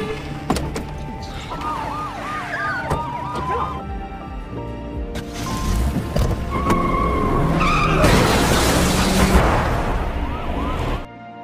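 A film car chase with a car tearing off onto a highway, tires skidding and squealing in warbling bursts over steady engine roar, the noise swelling louder toward the end amid sirens and clattering action sounds.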